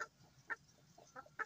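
Desi hens and a rooster clucking outdoors, several short clucks in an irregular rhythm, fairly close and moderately loud with no talk.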